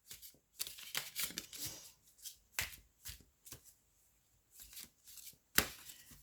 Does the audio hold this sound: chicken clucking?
no